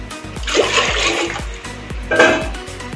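About 100 grams of water poured into a pot of milk on a gas stove, a loud close continuous splashing gush with a rhythmic repeating undertone throughout.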